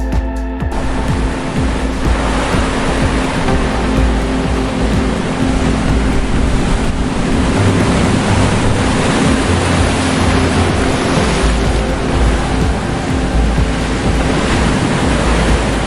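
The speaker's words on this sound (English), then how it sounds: "The towering waves swept the blue sky, crashing into the mainland like a sea painting suddenly being redrawn." Towering ocean waves crash onto the mainland in a loud, continuous roar of surf, buffeted by heavy wind noise across the microphone, with no voices.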